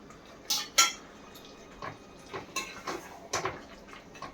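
Sautéed onion and capsicum are stirred into kadai masala chicken gravy in a kadai, with a run of metallic spoon clinks and scrapes, a few louder knocks spaced through the moment.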